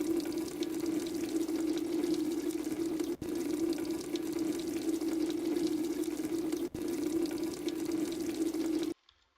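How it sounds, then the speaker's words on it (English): Gas pours steadily into a vehicle's fuel tank in a Roblox game. A continuous, even rushing flow is heard alone, with two tiny breaks, before it stops abruptly. "I'm not gonna put too much gas in here."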